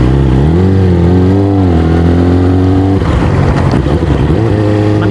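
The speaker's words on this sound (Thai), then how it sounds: "ดังจริงนะรถบิ๊กไบค์อ่ะ" A loud big bike with a noisy exhaust roars very close and steady, its engine note rising and falling, then turns rougher and more turbulent as it passes.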